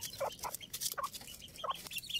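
A hen and her chicks cluck and peep while being fed grain in the afternoon, with short scattered calls over a quiet background.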